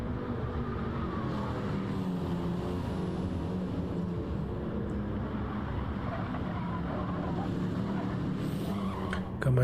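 Race cars at the Nürburgring in sim racing fight a close slipstream battle for sixth place, engines droning steadily side by side with a constant roar and faint commentary underneath.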